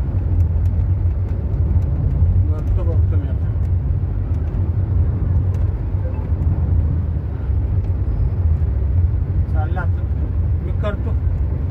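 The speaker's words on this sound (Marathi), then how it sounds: "मी गाडी चालवतो जरा" A car engine drones low and steady from inside the cabin while driving, with road rumble beneath and someone talking on the phone over it.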